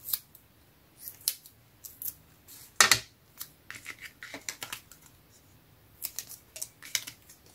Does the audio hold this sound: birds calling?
no